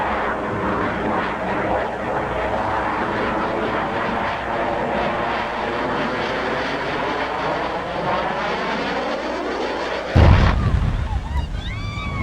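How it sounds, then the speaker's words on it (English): An airplane engine roars in a long, sweeping pass at an aerial display, the pitch sliding as it goes by, before a sudden loud crash-like burst near the end. "This pilot ejected and the plane crashed onto the empty airfield."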